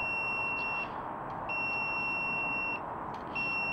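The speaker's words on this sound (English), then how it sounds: "I'm using my voltage detector. I'll test all the wires" A handheld voltage detector tests household receptacle wires, giving three long, steady, high-pitched electronic beeps with short gaps between them over a constant background hiss.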